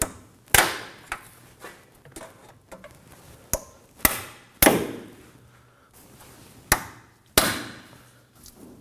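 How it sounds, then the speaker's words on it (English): A pry bar strikes and snaps at a one-time-use steering rack bellow boot clamp on a 2016-2020 Kia Sorento, giving sharp isolated metallic knocks at irregular intervals, some loud and close, with quiet gaps between. "And for that, I'm gonna be using a pry bar. And we're gonna be on this clamp."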